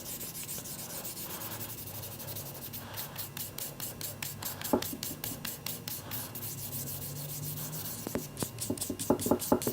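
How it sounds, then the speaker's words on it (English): Steady back-and-forth rasping of sandpaper on a wooden guitar neck, rhythmic strokes continuing throughout, close and moderately loud, with a few sharper scrapes near the end. "I'm intentionally sanding from over the top of the paper here too"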